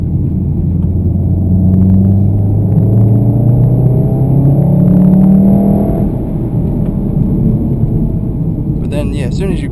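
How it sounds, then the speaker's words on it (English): A 2015 Volkswagen Golf R Mk7 driven at full throttle up a hill, its engine note climbing steadily in a loud, continuous rising drone heard from inside the car, easing off near the end. "I'll just floor it. So it picks up pretty well, and that's going up a hill as well."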